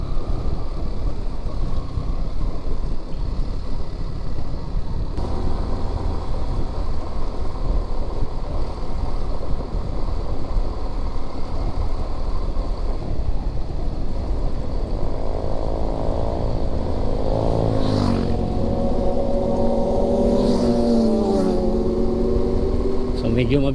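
Motorcycle ride with a group of eleven bikes, steady engine drone and wind rush from a moving rider, with other bike engines swelling and passing close near the end.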